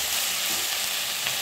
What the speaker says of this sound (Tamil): இந்த மாதிரி வெங்காயத்தோடு சேர்த்து வதக்கும்போது நல்லா வதங்கிடும்